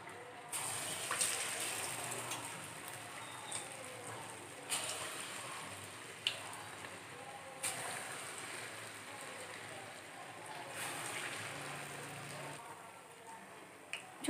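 Punugulu made from idli batter frying in hot oil, a soft continuous sizzle and crackle with occasional louder pops and bursts, fairly faint and steady.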